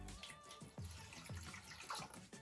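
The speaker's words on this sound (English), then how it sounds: "now you can go ahead and get some water and pour that in just as so." Water is poured into a VEKEN double-decker pet drinking fountain, a faint, short splashing trickle with a few soft gurgles and no talking.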